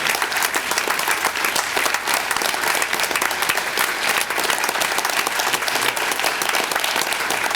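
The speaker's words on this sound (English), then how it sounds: "let's give another big round of applause to Richard for a great job, outstanding job." A dense, continuous round of applause fills a hall at a December 2006 oath of office ceremony, loud and even throughout, with no talk over it.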